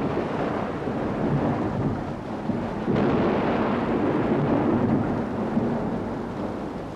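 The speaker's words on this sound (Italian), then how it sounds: "Anche la pioggia sembra non voler smettere mai." Heavy rain pours steadily through a thunderstorm, a dense broadband roar that grows slightly louder midway and hints at distant rumbling thunder, with no voices.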